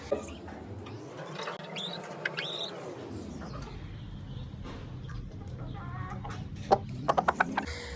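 Chickens cluck and a rooster calls in a low-cost rooftop coop over a steady background din, with a few sharp knocks toward the end.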